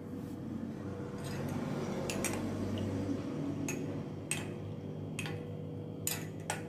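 A spoon stirs honey into gooseberry juice in a glass, making light, sparse clinks and ticks against a low steady background hum.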